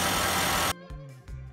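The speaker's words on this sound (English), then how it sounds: "While the engine is on idling, shift through the different gears" Nissan Juke engine idling after a CVT fluid change, a low steady hum with a brief louder noise at the start, then quieter uneven pulses of engine drone close by.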